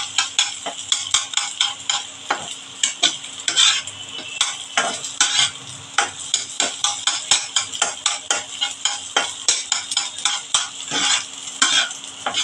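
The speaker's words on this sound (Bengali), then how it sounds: "আমি একটু বেশি ভাজবো না, একটু এভাবে কেটে কেটে দেবেন, একদম ভেজে হয়ে যাবে" Eggs fry in a pan for egg chowmein while a spatula chops and scrapes them, sharp rhythmic metal taps over a constant close sizzle, with no talking.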